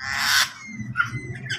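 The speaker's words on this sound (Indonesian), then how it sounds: "ada burung serindit ya, burung serindit, ada burung jala, banyak macam-macam deh." Several birds squawk and call inside a semi-aviary cage in front of a shophouse, where serindit hanging parrots and other species are kept, with a loud harsh burst followed by shorter chirps at close range.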